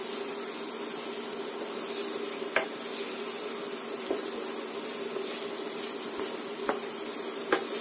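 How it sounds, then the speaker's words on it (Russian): Vegetables fry in a pan for a quick soup, a steady close sizzle and crackle with occasional sharp pops and light stirring, no voices. "Прям так красиво шкварчит, тут так жарится."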